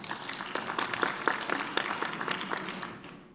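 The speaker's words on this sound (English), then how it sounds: "So can you give a round of applause again?" Audience at an education sector conference applauding a speaker, a moderate burst of clapping with a few sharp individual claps standing out, then fading away.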